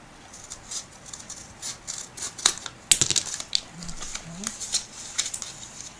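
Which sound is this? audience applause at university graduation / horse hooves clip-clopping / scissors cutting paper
scissors cutting paper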